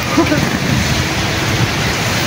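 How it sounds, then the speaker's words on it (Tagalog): Steady rain falling, a continuous broadband hiss close by with no clear breaks. "Naabot kami ng ulan."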